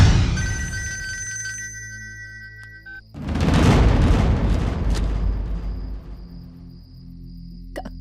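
A telephone bell rings in repeated bursts for about three seconds in a Bhojpuri family drama, then a heavy boom and loud dramatic music take over.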